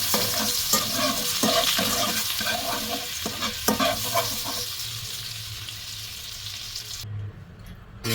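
Margarine gets stirred into a simmering beef tongue stew in a pan, with rhythmic scraping strokes over a steady sizzle, then the stirring stops and only a softer bubbling remains.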